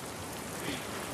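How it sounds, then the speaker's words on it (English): Steady rain hisses and patters in The Last of Us Part II, a dense even wash of drops, close and continuous with no voices. "Let's get out of the rain."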